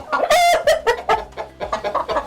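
Chickens in an older commercial laying flock cluck close by, a busy overlapping run of loud clucks and short squawks with no voices.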